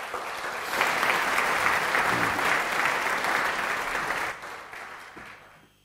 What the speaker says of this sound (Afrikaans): So kom miskien net vir my 'n hande klap asseblief